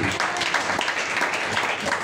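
A church congregation at a Sunday service claps in praise, a full, busy burst of applause filling the room at an even level from start to finish.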